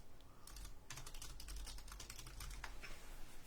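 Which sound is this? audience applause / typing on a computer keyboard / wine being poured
typing on a computer keyboard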